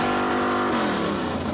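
A 1963 Pontiac Tempest with the 421 Super Duty engine, a rare aluminum-front-end drag car, runs loud and close, its broad engine roar rising and settling steadily through the short span with no talk over it.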